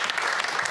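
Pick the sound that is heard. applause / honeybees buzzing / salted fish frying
applause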